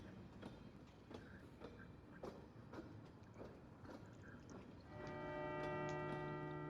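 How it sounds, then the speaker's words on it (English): A train ride ambience from the video game Pathologic 2: steady rhythmic clacking of wheels over rail joints, soft and even. A sustained tonal hum swells in near the end. No one speaks. "We're on a train."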